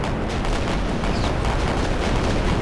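Naval gunfire in the World War II naval strategy game Victory At Sea Pacific, a continuous heavy rumble of booming shots and blasts filling the whole stretch at steady loudness.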